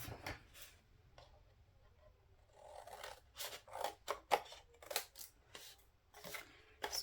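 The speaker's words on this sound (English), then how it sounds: "Okay, let's cut those edges off." Scissors trim the paper edges of an art journal in a quiet room; after a short lull, a run of crisp, close snips quickens and continues to the end, with no voices.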